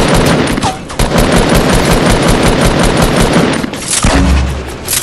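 Rapid automatic gunfire from a Fortnite drive-by shooting fired from a golf cart, loud, dense bursts filling the whole stretch with a short pause near the end, close and continuous.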